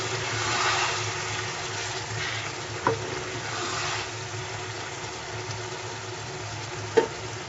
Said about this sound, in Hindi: बीच में चम्मच चलाने का मैंने आपसे कहा था, मैं आपको चला के दिखा रही हूँ।